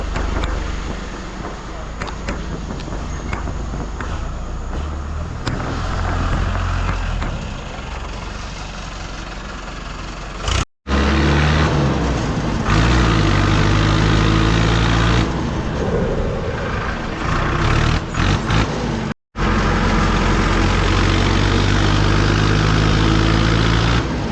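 A modified Mahindra Arjun tractor engine runs on test with a steady low diesel throb, rising and settling in revs, while people talk nearby; the sound cuts out briefly twice.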